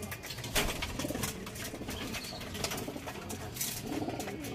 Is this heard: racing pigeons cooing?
yes